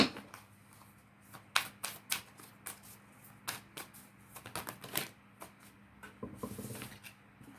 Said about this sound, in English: I'm actually going to draw some more cards on this